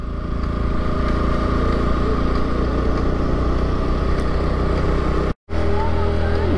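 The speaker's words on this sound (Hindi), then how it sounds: "बाइक कितना साउंड कर रहा है ये देख रहे हो आप लोग" A motorbike engine labours loudly and continuously as it climbs a steep hill road in Patratu Valley near Ranchi, a close, droning hum with a brief cut near the end.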